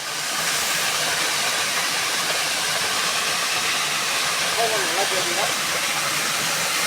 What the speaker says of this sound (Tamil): வத்தல்மல்ல அருவிக்கு வந்துட்டோம்.